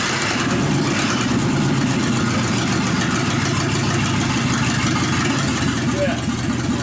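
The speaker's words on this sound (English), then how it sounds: "I gotta go warm up that tractor." A tractor engine warms up and idles nearby, a loud, steady low rumble with an even, slightly knocking throb that holds throughout.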